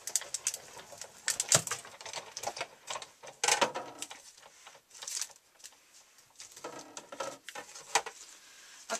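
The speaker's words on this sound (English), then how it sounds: "Send that through the Big Shot." A Big Shot die-cutting machine cranks cardstock layered between two acrylic plates, giving a series of irregular clicks, ratchets and rattles at close range, with brief quiet gaps between bursts.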